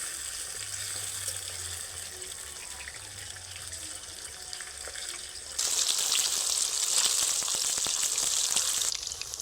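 Japanese puti fish fry in a pan with a steady, close sizzle that grows noticeably louder and brighter partway through as the fish are turned, with no talking.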